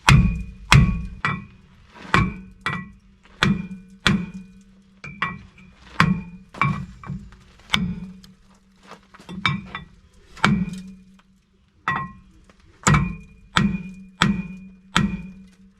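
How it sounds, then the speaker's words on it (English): Repeated sharp metallic hammer strikes from a small hammer ringing off the sides of a brake rotor, in uneven bursts of two or three hits with short pauses, close and loud. "Usually I take a little hammer, hit the sides a little bit."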